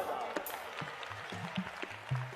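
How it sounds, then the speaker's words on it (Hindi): A crowd at a Bageshwar Dham religious gathering claps for the volunteers, a steady wash of applause under a voice talking over it. "जो सेवादार सेवा किए एक बार उनके लिए ताली बजाओ।"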